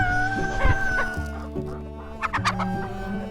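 Bresse chickens on a French farm clucking at lunchtime over corn, several birds close by with overlapping clucks and short calls, a brief louder burst of cackling partway through and no talk.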